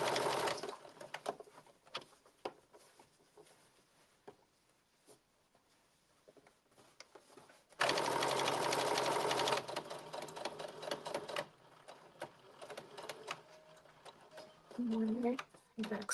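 A sewing machine back stitching a blazer, running in short bursts with one longer loud stretch, the motor whirring near with quiet pauses between, and a person talking at times.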